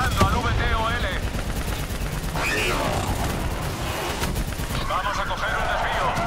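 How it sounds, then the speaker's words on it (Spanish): Heavy gunfire aimed at a VTOL aircraft in Call of Duty Black Ops 3, continuous loud automatic shooting with explosions under shouted voices. "¡Siga disparando al VTOL!"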